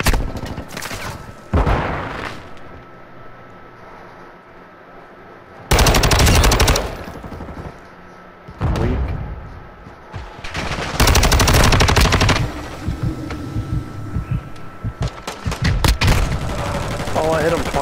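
Gunfire bursts from Call of Duty Modern Warfare 2 free-for-all play, loud blasts and rapid volleys in several separated clusters, with a player talking over and between the shots.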